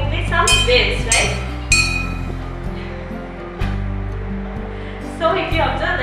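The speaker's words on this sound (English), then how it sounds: "Now, if I am trying to vibrate the glass with a vibrating body, now see, if you observe, the water is moving in the" A glass of water set vibrating by a vibrating body gives bright, ringing clinks and chimes in several bursts over a low sustained hum, with a voice speaking throughout.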